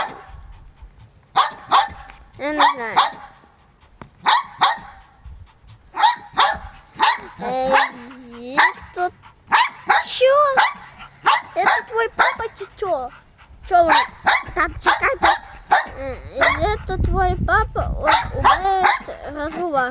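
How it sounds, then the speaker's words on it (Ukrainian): A pet dog barks wildly at close range in a quick, repeated volley of sharp barks and yips, with people talking in between and over the barking. "Він гавкає, як скаже."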